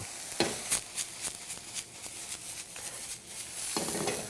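Onions sautéing in a pan for a healthy lasagna, a steady sizzle with repeated stirring scrapes and a couple of sharper tossing clatters near the start, with no one talking.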